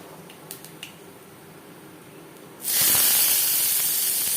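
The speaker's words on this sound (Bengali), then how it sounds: "3 চামচ রিফাইন্ড অয়েল গরম করে নেওয়ার পর দিয়ে দিলাম কালো জিরে" Black cumin seeds hit hot refined oil for a potato curry, bursting into a sudden loud, steady sizzle after a few quiet seconds with faint kitchen clicks.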